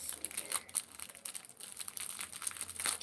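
Thin plastic shower cap packaging crinkles and crackles continuously as it is handled and pulled open, close and fairly loud, with no talking.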